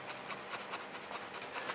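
Sandpaper rubbed back and forth on broken plastic as surface prep for JB Weld PlasticWeld epoxy putty repair, a quick steady rasping rhythm of short close strokes, fairly quiet and alone.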